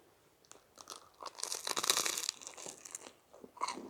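Crunchy bites and chewing of a mac and cheese sandwich, close and fairly loud, with repeated crisp crunches building through the middle and a final crunch near the end.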